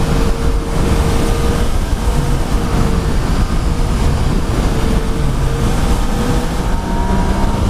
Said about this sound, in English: It's got that same grunt as the MT-09.